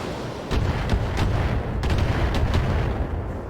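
Mech missiles firing in Battletech, a salvo of several heavy booming launches and impacts over a low rumble, loud and close.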